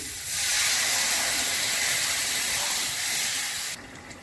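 Water splashed into a hot cooking pot while making rui fish curry with cauliflower gives a loud, steady hiss of steam for about three and a half seconds, then cuts off abruptly.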